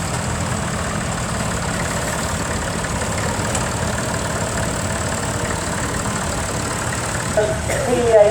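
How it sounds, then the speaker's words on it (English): A 1961 Massey Ferguson 35 tractor with a mounted plough runs steadily in a tractor parade at a steam rally, a continuous mid-low engine drone that holds throughout and swells slightly louder in the final second. "Number 93, a Massey Ferguson 35 of 1961, together with a mounted plough"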